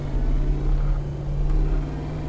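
A 6.2-litre truck engine in Euro Truck Simulator 2 drones steadily at a constant pitch, a deep rumbling hum held under throttle with no talk over it.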